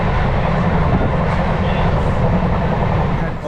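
The crowded Amarkantak Express passenger train, travelling from Durg to Bhopal out of Raipur, runs with a loud, continuous rumble and rattle heard from inside the carriage throughout.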